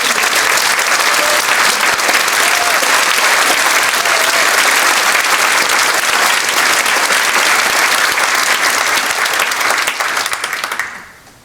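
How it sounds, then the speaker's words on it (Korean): A church congregation gives loud, sustained applause of encouragement, a dense wash of clapping filling the room before fading out at the end. "우리도 격려의 마음을 담아서 한번 박수 부탁드립니다"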